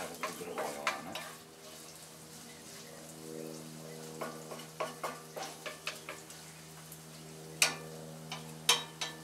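Ingredients coated in oil fry in a pan for a homemade pasta sauce, a steady close sizzle under repeated scraping and tapping of a utensil being stirred, with louder clacks near the end.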